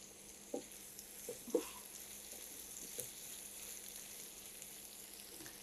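Onions fry in a pan of oil alongside a fish fry dish, a quiet, steady low sizzle with a few soft clinks of stirring scattered through, and no voices.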